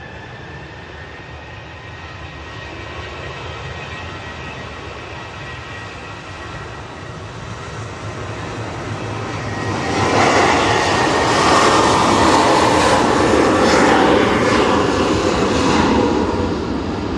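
Jet2 airliner taxiing or departing at a windy Manchester Airport, a distant engine rumble that builds into a louder, broad roar after about ten seconds, with wind noise and no speech.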